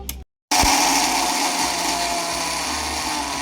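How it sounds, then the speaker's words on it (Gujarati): A kitchen mixer grinder grinding ingredients into powder starts up abruptly after a brief pause, then runs loud and steady in a continuous whirring roar, heard alone at close range. "આપણે મિક્સરમાં ભૂકો કરી નાખીએ આનો તો અવાજ એવો આવ્યો"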